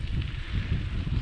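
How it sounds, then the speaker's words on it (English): Wind buffets the microphone during a rainy mountain bike ride, a steady low roar of rumbling gusts with no voices. "Pretty windy, raining a little bit."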